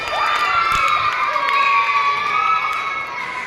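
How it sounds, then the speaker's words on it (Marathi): Fourth-grade children in a classroom clap loudly, mixed with loud shouting and cheering voices that hold steady for the whole stretch. "जोरात टाळ्या"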